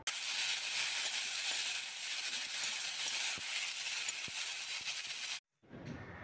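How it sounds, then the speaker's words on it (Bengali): Potatoes fry in a hot pan with a loud, steady sizzle and hiss, broken by a few faint clicks. The sizzle cuts out abruptly near the end, then returns more quietly. "দেখো বন্ধুরা, আলুটা ভেজে নিচ্ছি"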